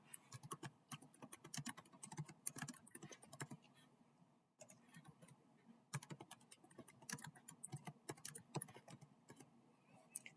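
Someone types a title on a computer keyboard in quick irregular bursts of soft key clicks with a brief pause midway. The sound is close and quiet, with no talking.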